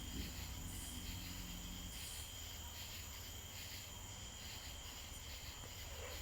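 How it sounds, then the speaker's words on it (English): Crickets or katydids chirp in a steady, unbroken drone throughout, faint and distant, with no other clear sound over it. "Yes, Remy, they are actual crickets or katydids or something."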